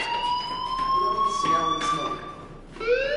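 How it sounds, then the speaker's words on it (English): An electronic fire alarm in the video game Life is Strange sounds as a steady, high-pitched beeping tone that holds throughout, with faint background sounds beneath it and a rising electronic sweep near the end. "do you hear that fire alarm? That means you should be outside."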